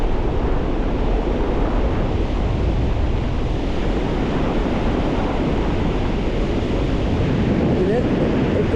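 Ocean surf breaking steadily on a beach known for riptides and sneaker waves, a continuous broad wash and rumble mixed with wind buffeting the microphone, with no distinct individual wave crashes standing out.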